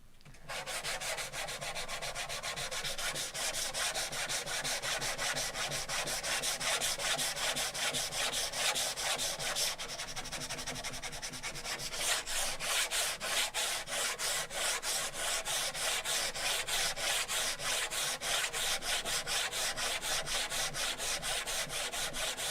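Wood sanded by hand with sandpaper, rapid rhythmic back-and-forth rasping strokes, close and continuous, with a brief pause midway before the scrubbing resumes.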